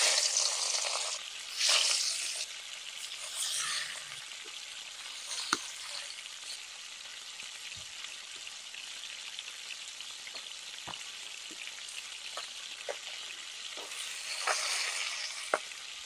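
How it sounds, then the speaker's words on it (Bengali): Marinated rohu fish pieces sizzling and crackling steadily in hot oil in a pan, with louder spitting bursts near the start and end and occasional sharp pops. "মাছগুলো ভালোভাবে লাল লাল করে ভেজে নেব।"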